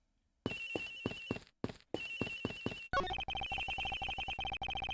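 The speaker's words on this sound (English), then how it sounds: "Agent Hicks' phone! It's ringing from somewhere, sir." A cell phone ringtone chimes in the Ace Attorney Investigations video game, a repeated electronic ringing pattern in bursts with brief gaps, then shifting to a denser repeating tone, loud and alone.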